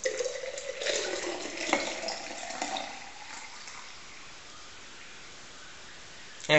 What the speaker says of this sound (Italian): Andremo a versare adesso l'acqua.